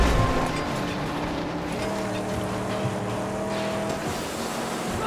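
A fast car engine in the Mad Max video game roars steadily and loudly, its tone rising and falling slightly as it runs on, with no voices over it.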